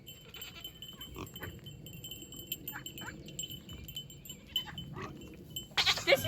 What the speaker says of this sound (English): These are my goats from Annabelle.